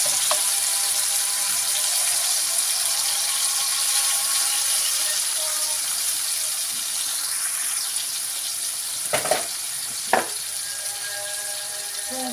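Tomato sauce frying in oil in a pan, a steady bright sizzle running throughout, with a couple of brief louder clinks or bubbles near the end, no talk.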